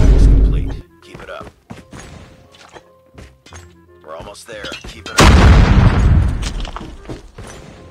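An MG42 machine gun fires in a mobile shooter game, with loud, booming bursts of rapid shots at the start and again in a long heavy stretch later, alongside talking voices.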